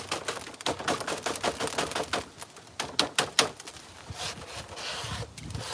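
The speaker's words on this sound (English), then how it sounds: "I'm also going to give the screen just another little tap" Rapid, sharp metallic taps ring out from a gold trommel screen being knocked to shake material loose, a close series of bright clicks and knocks, some clustered and some spaced, over a light background hiss.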